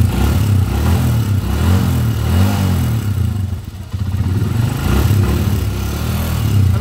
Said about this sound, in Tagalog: Okay, so yan na, smooth na yung andar ng motor ni boss.